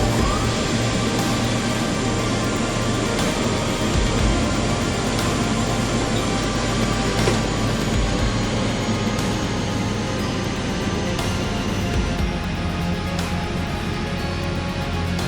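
Airliner departing Kuala Lumpur International Airport and climbing, a steady broad engine roar with faint rising whine, continuous and loud throughout with no voices.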